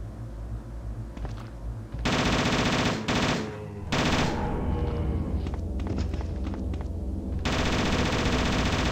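Gunfire in the original Resident Evil game: loud, dense bursts of rapid shots sound in several runs, with short gaps between them and a thump or two.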